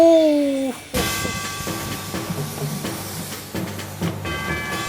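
An old 70-year-old steam locomotive on the Oigawa railway in Shizuoka, Japan, sounds a whistle, then hisses and clanks loudly as carriages rumble and clatter past nearby.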